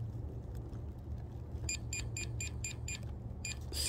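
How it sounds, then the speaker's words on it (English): A GP Pointer metal detector pinpointer held near keys gives a run of short, evenly spaced electronic beeps with a brief pause, fairly faint over a low rumbling background. "So it's now beeping because obviously it's, you know, hitting the keys and it's vibrating."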